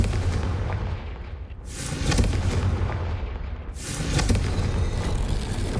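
A Confringo fire spell explodes in a video game, two loud booming blasts erupting about two seconds apart over a dense, roaring rumble, with no talking.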